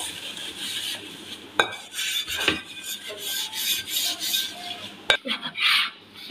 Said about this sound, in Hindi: तो जड़े सिल्वर स्टील के बर्तन होंगे ने, वो मैं इस काले साबण के नाल मांजदी हाँ।